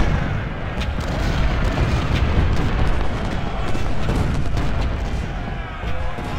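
Cannon artillery in the video game Ultimate General: Civil War fires in a dense run of booms and crackling shots, a continuous battle din with no clear voices.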